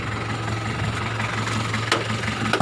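A 1995 Isuzu Panther diesel engine idles cold with a steady low throb and a faint knocking clatter, heard up close, with a couple of sharp clicks near the end.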